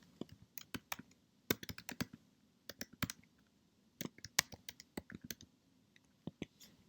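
Fingers tap a computer keyboard while entering commands at a MySQL prompt, producing irregular bursts of close, crisp key clicks with short pauses, over a soft background hum.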